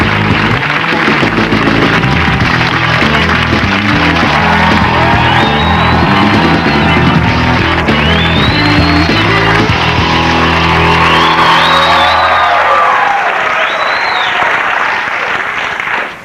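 Loud studio audience applause and cheering from a comedy talk show, a dense sustained roar of clapping with whoops that holds steady for about sixteen seconds before cutting off.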